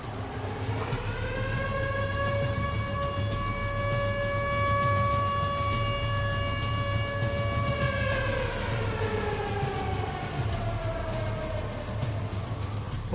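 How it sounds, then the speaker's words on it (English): Tornado warning sirens wail in Joplin, a long sustained rising-and-falling tone with layered harmonics that holds steady for several seconds and then slowly sweeps downward, loud over a constant low rumble. "The sirens start going off again for the second time."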